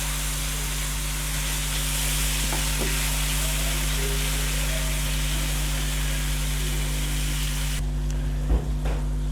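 Three large tomatoes frying and softening in a pan for mutton kata kat, a steady broad sizzle with low background hum, running continuously and fairly loud before quieting slightly near the end.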